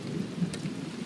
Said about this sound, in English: there's the rain again